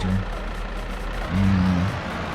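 A tractor engine in Farming Simulator 22 drones steadily at a low pitch, rising briefly as it revs midway before settling back to an idle hum.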